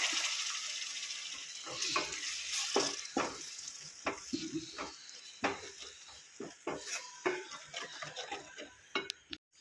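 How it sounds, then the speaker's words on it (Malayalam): Vinegar poured into a hot spice mix for a Kerala-style tuna pickle bursts into a loud sizzle that gradually settles into bubbling, broken by sharp clinks and scrapes of a utensil against the pan. "ഇതിലേക്ക് നമുക്ക് വിനാഗിരി ഒഴിച്ചു കൊടുക്കാം ഇതിനൊരു ഒരു കപ്പോളം വിനാഗിരി ഒഴിച്ചു കൊടുക്കാം"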